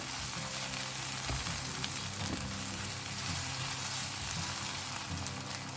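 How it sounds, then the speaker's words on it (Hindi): Cooked, softened tomatoes are mixed in a pan, giving a steady, close sizzle and frying hiss that runs unbroken throughout, with no talking. "अच्छे से एक बार मिक्स करें"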